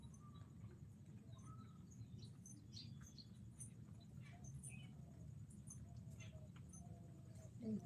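Small birds chirp and tweet in scattered short calls, faint and fairly distant over a steady low background hum.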